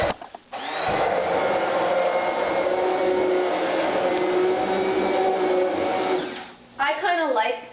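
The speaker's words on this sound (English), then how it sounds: "I'm just going to grab this hand blender and just run it through really fast." A hand blender whirs steadily through a pot of four-lentil moong dal for several seconds, loud and continuous, then cuts off with a brief rattle at the end.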